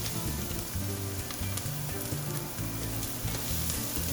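Steady, close sizzling of diced onions frying in beef juices and charred bits on a stovetop for barbacoa, a continuous hiss with a low background hum and no talking.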